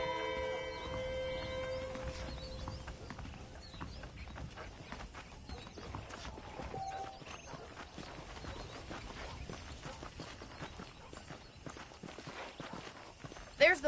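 Horse hooves walking in the video game Red Dead Redemption, a soft, steady clip-clop of hoofbeats at a walking pace, fairly quiet and continuous, with a brief louder thump at the very end.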